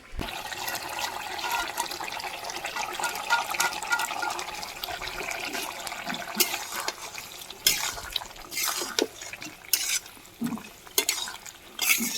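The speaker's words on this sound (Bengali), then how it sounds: "ঝোলের জল ফুটতে শুরু করেছে এবার আমরা ভেজে রাখা কাঁকড়াগুলো দিয়ে দেবো" Fried crabs go into boiling curry water in a pot of crab curry with Malabar spinach and pumpkin, giving a low bubbling, watery churn with splashes and stirring scrapes that grow louder and more irregular toward the end.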